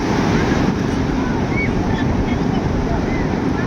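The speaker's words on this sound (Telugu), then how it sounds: "సముద్రం అయితే చాలా వరకు ప్రశాంతంగానే ఉంది అంత అలలో ఎక్కువగా ఏం లేవు" Gentle sea waves at Ramapuram beach near Chirala harbour, a continuous surf wash mixed with wind buffeting the microphone, fairly loud and unbroken.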